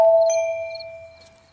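A two-tone ding-dong notification bell chime, one clear bright strike that rings out and fades away over about a second and a half, alone and close.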